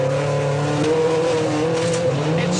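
A 1970s rally car races flat out around a circuit, its engine roaring loud and steady at high revs with slight pitch shifts as it holds speed, with no voices.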